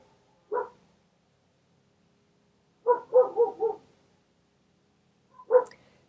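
Dogs barking at a distance, a single bark, then after a pause a quick burst of three or four barks, then one more lone bark, faint and spaced out against a quiet background.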